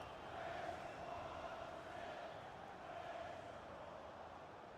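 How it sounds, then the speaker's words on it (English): A home crowd chants and roars at an FA Cup match between Tranmere Rovers and Manchester United in the EA Sports FC 26 video game, heard as a steady, fairly faint wash of crowd noise with no talk. "Home crowd is chanting."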